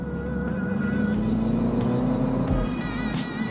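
A Mini JCW F57 Cabriolet's engine holds a steady, loud rumble with rising and falling revs, close up and continuous, with no talking over it.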